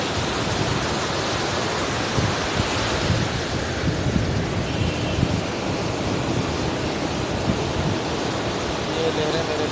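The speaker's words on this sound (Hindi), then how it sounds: "ये लहरें मेरे पाँव तक आकर वापस चली" Ocean waves wash onto the beach at Galle, Sri Lanka, in a steady broadband surf roar that holds level for the whole stretch, with wind noise on the microphone and some talk under it.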